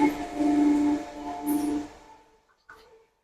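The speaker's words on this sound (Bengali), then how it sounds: "ট্রেন 1 নম্বর প্ল্যাটফর্মে আসছে।" Train pulling in at platform 1 of Bidhannagar station, a steady low rumble with a tonal hum and brief whistle-like squeal fading out over a few seconds.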